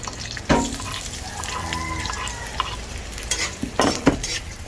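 Garlic sautéing in cooking oil in a pan for a Filipino beef soup, a steady close sizzle with a few sharper clinks and scrapes of stirring, no talk.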